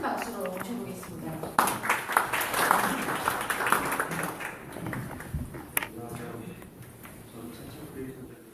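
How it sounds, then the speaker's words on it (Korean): Scattered audience applause at a Korean startup policy seminar, modest clapping rising and then fading, with people talking over and around it. "큰 박수로 모셔보겠습니다"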